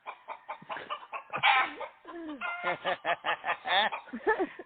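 Chicken clucking in a busy run of rapid, rising and falling calls, fairly quiet but continuous, with no talk over it.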